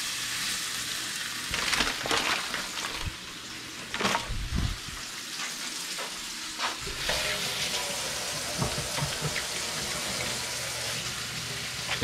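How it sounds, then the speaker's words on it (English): Salt-and-peppered salmon laid face down in a hot pan, sizzling loudly and steadily up close with occasional spattering bursts and clatter of the pan, no talk. "we got a nice hot pan here to get a nice good sear on our salmon"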